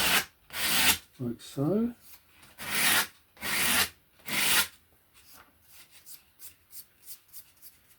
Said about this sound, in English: I'm using a 180 sandpaper